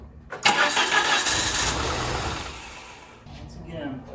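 A Dodge Omni engine running on starting fluid catches with a sudden loud burst, roars roughly for a couple of seconds, then sputters and dies as it fades, followed by a brief faint mechanical sound.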